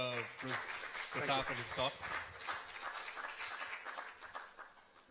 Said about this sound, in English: shall we have a big round of applause for